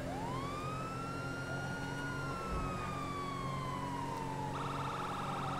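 A wailing police siren in GTA 5 rises and slowly falls, then switches to a rapid yelp tone, loud and steady over a constant background engine drone.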